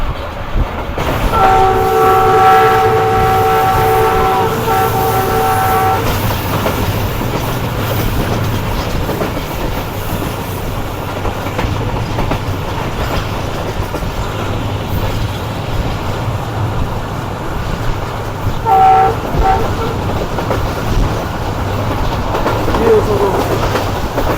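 The Shalimar Express rumbles loudly past Mirpur Mathelo railway station, its horn sounding a long blast early on and a brief one later over continuous rolling wheel noise.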